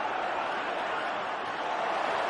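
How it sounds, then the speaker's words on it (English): Steady wash of football stadium crowd noise from a Newcastle United versus West Ham Premier League match stream, a continuous even roar with no distinct cheers, fairly quiet in the background. "do you like that crowd noise or not?"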